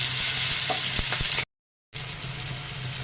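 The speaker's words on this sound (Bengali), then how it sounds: "এই তেলের মধ্যেই দিয়ে দিলাম কালো জিরা আর দিয়ে দিলাম টমেটো একটুখানি কষিয়ে নেবো টমেটোটাকে" Tomatoes and black cumin frying in hot oil, a dense continuous sizzle with a few light stirring knocks, broken by a short gap of silence before the sizzle resumes.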